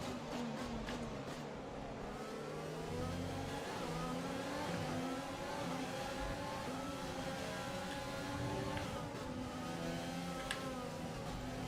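A Formula 1 car in the video game F1 2020 re-accelerating out of a corner, its high engine whine climbing through the gears in a continuous, loud, close drone.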